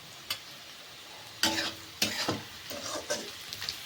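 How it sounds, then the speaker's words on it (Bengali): Vegetables with sugar being stir-fried for Bengali-style fried rice, with several distinct scraping stirs of a spatula in the pan over a faint steady sizzle, close and without talk. "একটু ভালো করে সবজির সাথে মিশিয়ে নেব"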